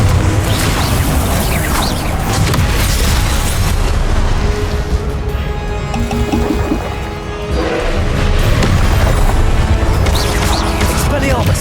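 Confringo fire spells detonate amid a dense, loud Hogwarts Legacy battle, heavy booms and crashing impacts layered over constant clamor with shouted voices throughout and a brief lull in the middle.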